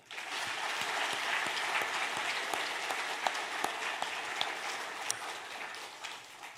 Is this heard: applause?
yes